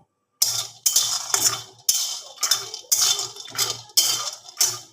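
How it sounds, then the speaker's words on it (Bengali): Peanuts dry-roasted in an open pan for a potato-and-bread snack roll, rattling and scraping in repeated bursts about every half second as the nuts are tossed and stirred, loud and close with no talk. "আমি এটা একটু শুকনো খোলা ভেজে নেব"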